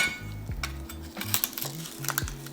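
A knife cuts through the stems of folded collard green leaves: a handful of crisp, close clicks and taps at an uneven pace, over a low steady hum.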